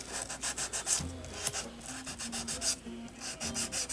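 Rhythmic back-and-forth rubbing of 600-grit sandpaper on the metal frets of a Squier Jazzmaster guitar, close and steady, with faint squeaky tones under the strokes.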